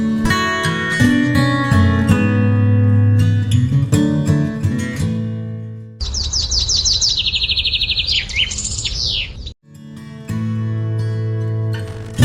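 Cartoon bird chirping: a quick burst of bright, rapid tweets on its own, coming between stretches of music.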